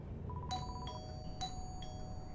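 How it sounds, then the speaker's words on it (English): A doorbell sounds as two faint ding-dong chimes, each a pair of tones, one right after the other over a low background rumble. "I rang the doorbell and waited a few seconds"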